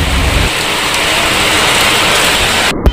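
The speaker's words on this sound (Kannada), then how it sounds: "ಅದು ದಪ್ಪ ಮಳೆ ಬರ್ತಾ ಇರುತ್ತೆ." Heavy rain pours down in a steady, loud, dense roar close by, unbroken with no voices, ending in a brief abrupt thump.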